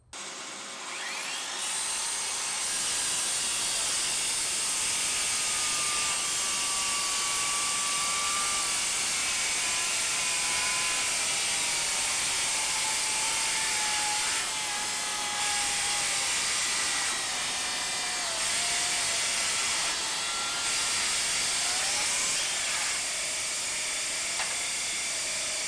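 Two cordless circular saws, a Parkside from Lidl and a Hitachi (Hikoki), cut through stacked 18mm chipboard with a steady loud whine and hiss that holds almost unbroken throughout, with the pitch dipping slightly as the blade bites.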